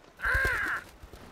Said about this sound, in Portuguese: Aquele pássaro!